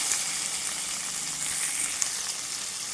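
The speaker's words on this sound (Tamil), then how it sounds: "வெங்காயத்தை போட்டு கொஞ்சம் பொன்னிறமாக வறுத்தங்க" Salted onions fry in oil for brinjal chutney, giving a steady close hiss and crackle of sizzling throughout with no talk.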